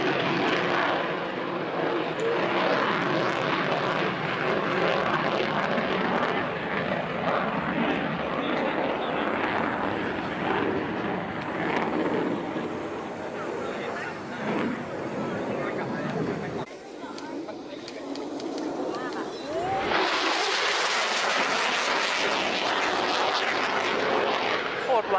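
An F-35A fighter jet passes overhead with a loud, sustained roaring engine rumble that fades and then swells again with a bright hiss, while onlookers chatter and talk throughout.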